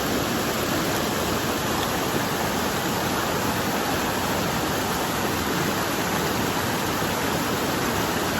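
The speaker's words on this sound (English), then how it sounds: "Our first water crossing of the day." A stream rushes over rocks at a water crossing on the Appalachian Trail, a steady, dense, close-up wash of flowing water that holds at an even loudness throughout, with no voices over it.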